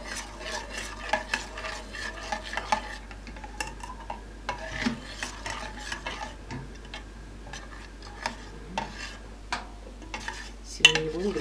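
A spoon stirs a warm gelatin plum dessert mixture in a pot, making soft, irregular scrapes and light clinks against the metal. The sounds are faint and close, with no talking.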